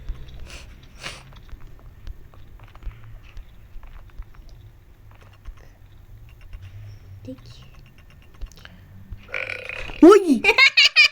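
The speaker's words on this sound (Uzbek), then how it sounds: "Yomon kekirar ekan lekin bor-ku." A person lets out a loud, drawn-out burp near the end, close to the listener. Before it come quiet clicking and tapping noises and faint background activity.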